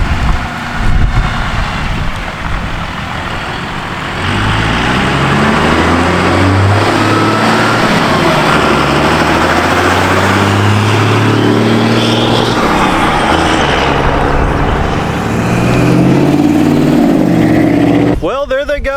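Diesel pickup with a 12-valve Cummins engine revs and pulls away, a loud rumbling drone with gear shifts and rising revs, wind noise over the top, heard nearby and then moving off.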